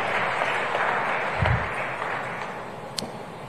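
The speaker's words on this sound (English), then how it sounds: "A big round of applause for her as well" Audience applause at the JNICC in Dar es Salaam, Tanzania, during an African food systems forum, honoring a vice president of IFAD; steady broadband clapping from a large hall crowd, fairly even throughout with a faint thump in the middle.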